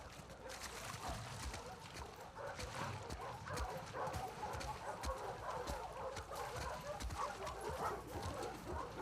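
Several dogs bark and whimper in the WLF kennels of The Last of Us Part 2, a dense, continuous layer of yips and barks with game ambience and some faint voices underneath.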